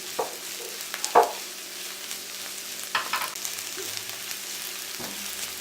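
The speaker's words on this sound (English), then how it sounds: "It's been 3 minutes, our onions have been cooking." Onions cooked to a translucent stage frying in a pan with a teaspoon of red chili powder for butter chicken, a soft steady sizzle broken by a few louder stirring scrapes and clacks, with no talking.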